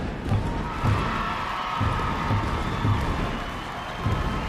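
A large arena crowd of spectators at a gladiator fight makes a continuous low murmur, with soft rhythmic thuds pulsing underneath at a steady pace.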